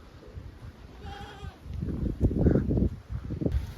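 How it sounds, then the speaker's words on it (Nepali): Goats bleat near a rural home, with a few wavering cries rising over low rustling and handling noise, and a voice murmurs softly in the background. "हाम्रो यता बाख्रा नि रहेछन् सबै यस्तो पाराको"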